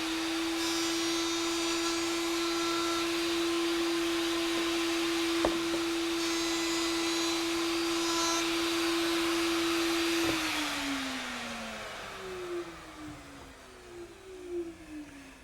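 A wood router cuts both sides of a wooden piece in a workshop, a loud steady motor whine with a sharp bite mid-cut, then the motor spins down near the end.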